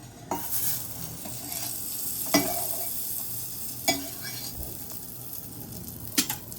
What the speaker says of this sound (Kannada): ಬಟರ್ ಹಾಕೊಳ್ಳಿ ಗಾಯ್ಸ್